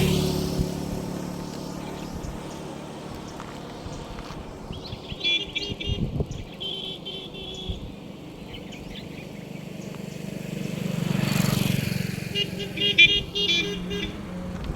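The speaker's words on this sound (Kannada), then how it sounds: "ಒಂದ್ ಬೈಕ್ ಹೋಗ್ಬಿಡುತ್ತೆ" A motorcycle rolls past on a roadside stretch between Badami and Gadag, its engine swelling and fading amid ongoing traffic rumble, with several short horn toots and faint background voices.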